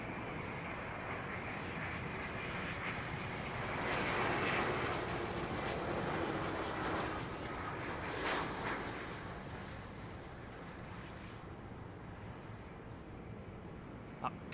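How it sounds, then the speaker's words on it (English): A Delta Airbus A330-900 with Rolls-Royce Trent engines arrives on runway 09L at London Heathrow. Its broad jet roar holds steady and fairly loud, swells slightly midway, then eases a little toward the end. "This is one of Delta's 339s, isn't it? Rolls-Royce Trent engines"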